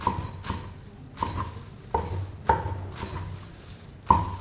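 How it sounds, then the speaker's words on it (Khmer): A knife chops fresh coriander on a board for chicken rice porridge. About half a dozen crisp, irregular chops sound up close, with no talking. "យើងមកឆ្លៀតហាន់ជីបងប្អូនជីរណានេះយើងហាន់ដើម្បីត្រៀម"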